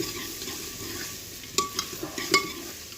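Onions and chillies fry in a pan as the base for pakora kadhi. A steady, close sizzle carries throughout, with several sharp spatula scrapes and stirring clinks near the end and no talking.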